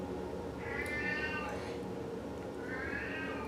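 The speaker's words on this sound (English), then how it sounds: "That's my cat with dementia." An elderly pet cat with dementia meows in two long, drawn-out wails, fairly close, over a steady low background hum.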